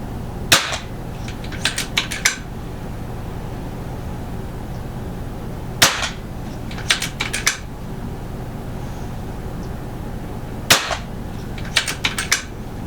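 Three sharp, loud shots from a Brocock XR Sniper air rifle firing Hades pellets, spaced about five seconds apart. Each crack is followed by a quick run of light mechanical clicks, with a steady low background hum throughout.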